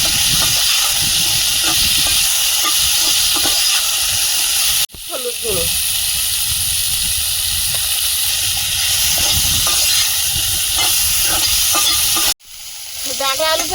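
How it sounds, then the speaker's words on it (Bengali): Drumstick (sajna) stalks fry in a pan with a loud, steady sizzle, along with stirring and scraping. The frying is briefly interrupted twice, near five seconds and again near twelve. "একটু ভেজে নিয়েছি খুব বেশি ভাজবো না সজনের ডাটা যত কম ভাজা হয় ততই ভালো"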